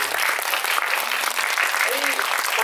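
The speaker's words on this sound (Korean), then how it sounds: "큰 박수 부탁드리겠습니다." Audience applause fills a Korean film event hall after a talk session for the Yi Sun-sin series film Noryang, steady dense clapping throughout with a faint voice briefly underneath.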